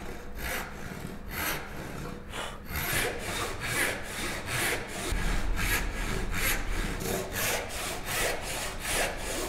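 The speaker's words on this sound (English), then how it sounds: "So I'm going to cut about a millimeter away from the lines here." A hand saw cuts into wood for a through mortice and tenon joint in a steady rhythm of rasping back-and-forth strokes, close and fairly quiet, heard alone.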